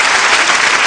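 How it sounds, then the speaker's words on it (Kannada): Loud, dense applause from an audience after a singing performance, a brief burst of close clapping. "ಒಂದು ಜೋರಾಗಿ ಚಪ್ಪಾಳೆ ಹೊಡೆದ್ಬಿಡಿ ಸರ್."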